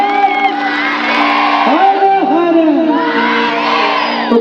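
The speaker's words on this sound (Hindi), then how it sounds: "एक बार जोरदार ताली बजाओ और दोनों हाथ बोले हर हर" A crowd at the Lokkala Mahotsav folk festival in Baghera, Durg, 2024, cheers and shouts 'Har Har' in a loud, sustained roar with whoops, and tonal sounds run beneath throughout.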